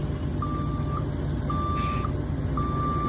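A Class B truck backing up during a CDL skills test sounds three evenly spaced reversing beeps over a loud, steady engine rumble.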